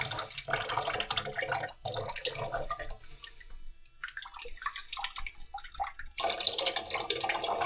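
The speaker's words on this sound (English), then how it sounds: "I use a little bit of fresh water and my tweezers to pick out anything that's not uni" Fresh water trickles and splashes from a tap as sea urchin roe is rinsed in a sink, an uneven running stream with brief quieter gaps, close and soft.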